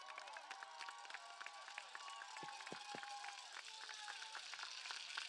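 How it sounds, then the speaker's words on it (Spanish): A large crowd at a political rally in Mexicali, Baja California applauds for Claudia Sheinbaum with sustained, dense clapping and scattered sharp claps standing out, while faint voices and cheers mix in underneath. "pido un fuerte aplauso, la doctora Claudia Chainbaum Pardo"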